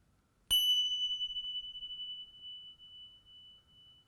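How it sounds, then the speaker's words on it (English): A single bell is struck once, giving a clear bright ring that hangs in the air and slowly fades away over several seconds. "just listen to my bells"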